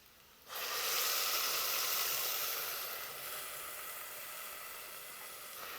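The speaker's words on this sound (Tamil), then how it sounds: "அப்போ நாங்கள் அரைச்ச கலவையை ஊற்றுவோம்" Ground spice paste poured onto softened onions in a hot pan bursts into a sudden loud hissing sizzle that holds steady, then eases to a quieter continuous fry.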